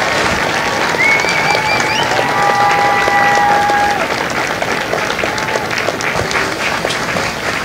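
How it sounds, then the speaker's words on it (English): A large crowd at a Marine Corps recruit graduation in San Diego claps loudly and steadily for the Marine veterans, with whistles cutting through at the start before the applause thins slightly. "Ladies and gentlemen, a round of applause for their dedicated service to Corps and country."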